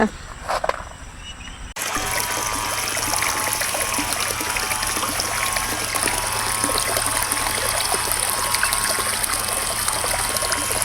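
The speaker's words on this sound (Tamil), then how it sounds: "இப்போ சுண்டக்காவை வந்து நம்ம அலசி எடுத்துக்கலாம்" Fresh turkey berries (sundakkai) being rinsed by hand in water, a steady close trickling and sloshing that starts abruptly after a short quiet moment and continues without pause.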